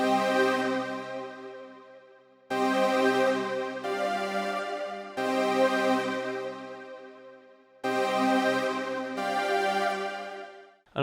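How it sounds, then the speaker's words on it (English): Soft string pad preset on the Baby Audio BA-1 synth plays sustained, warm chords in four swelling phrases, each entering abruptly and slowly fading, alone with no voices. "That's the soft strings preset."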